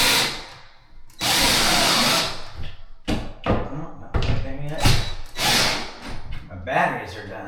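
A power drill whirs in short loud bursts and sustained runs while fastening an Allen & Roth closet tower unit to a wall, with clunks of the unit between and a person talking intermittently.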